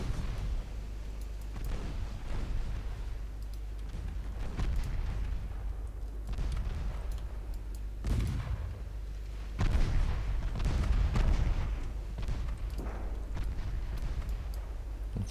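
Heavy detonations and gun blasts from an early dreadnought-era naval battle in Ultimate Admiral Dreadnoughts, with warship torpedoes exploding among them; repeated loud, low booms at irregular intervals, some closely clustered.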